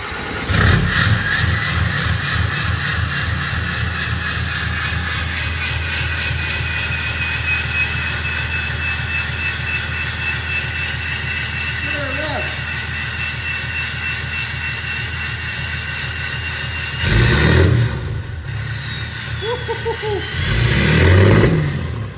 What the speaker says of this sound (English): Well, we got ourselves a diesel, boys.